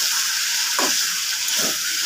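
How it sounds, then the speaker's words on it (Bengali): Chicken pieces sauté in a hot pan with lemon juice and tomato, giving a steady, dense sizzle throughout, broken by a couple of soft scraping stirs. "চিকেনটা ভালো করে কষে নেব"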